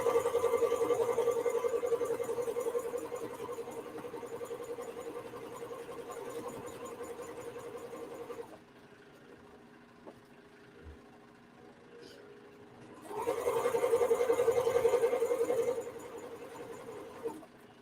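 A sewing machine stitching a men's shirt, its motor humming steadily in a close, moderate run, then stopping for a few seconds before starting a short louder burst and easing down again; a voice talks at times.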